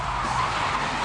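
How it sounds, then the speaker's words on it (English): A car skids during a stunt for the London police drama The Bill, filmed on the streets; a short, steady burst of rushing tyre noise, fairly loud and close, with no talk. "I think we're skidding a car right now."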